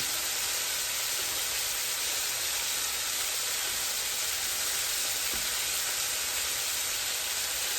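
Shrimp frying in a pan with broccoli and teriyaki sauce for fried rice gives a dense, unbroken hiss of sizzling that stays loud and close throughout, with no voices.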